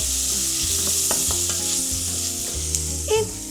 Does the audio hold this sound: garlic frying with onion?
yes